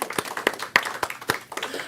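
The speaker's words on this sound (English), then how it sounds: "Let's give everybody a round of applause one more time." Audience applause after a call for a round of applause at an event, with a run of sharp, irregular claps through the whole stretch, moderately loud and fairly close.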